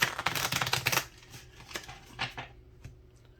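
Tea leaves oracle cards being shuffled by hand, a dense burst of quick riffling clicks for about a second, then a few sparse, softer card taps and slides close by in a quiet room.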